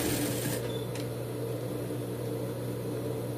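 A sewing machine stitches a dog's Christmas bandana with a steady, close motor whir and a faint clicking at the start, running evenly with no talking.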